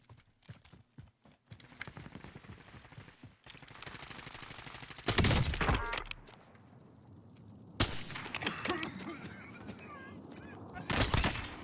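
Bursts of gunfire in a solo-mode battle-royale video game, loud rapid volleys in several clusters separated by quieter stretches of in-game sound, with a player's voice heard in between.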